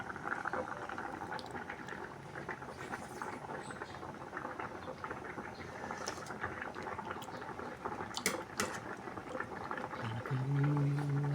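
A pot of soup with papaya at a rolling boil, steady close bubbling and popping throughout, with a low tonal hum near the end and no speech.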